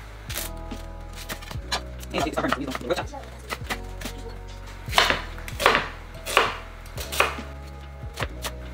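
Knife chopping onion on a cutting board while preparing browned beef neck bones, with a series of sharp, irregular close-up strikes that come in bursts, several louder blows near the end, over a low steady background hum.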